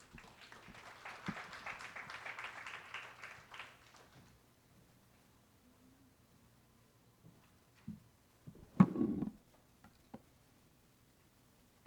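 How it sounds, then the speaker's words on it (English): An audience at an energy security forum gives a brief, soft round of applause that fades after a few seconds into near silence, broken only by a few faint knocks and handling noises. "Let's give her a round of applause"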